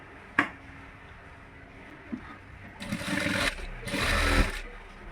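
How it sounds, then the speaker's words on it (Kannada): A sewing machine stitches the side seam of an embroidered blouse, starting with a sharp click, then two bursts of fast, rattling whirring, the second louder and longer, close up with no talking. "ಈಗ ಸೈಡಲ್ಲಿ ಸ್ಟಿಚಸ್ ಹಾಕ್ತೀನಿ"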